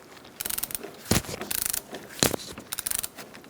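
A hand ratchet cracks loose a front strut bolt on a 2004-2009 Mazda 3, sounding in quick bursts of rapid clicking with a few heavier clunks between them, close and clear with no talking.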